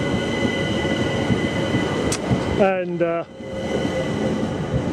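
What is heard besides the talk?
London Overground train at station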